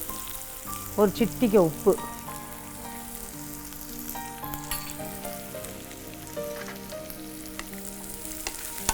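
Onion, garlic and ginger sauté in a pan with a soft, steady sizzle and a few brief stirring bursts early on, while a person talks and faint tonal background sounds run underneath.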